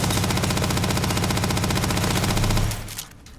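SR 7 PDW fitted with a tech barrel in Starfield fires one sustained, steady automatic stream, loud and close, then cuts off abruptly into a quiet tail.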